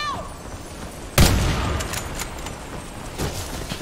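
In a shooter video game, one loud grenade blast hits suddenly, followed by a few scattered gunshots and softer crackles. Faint game voices and ambience sit underneath.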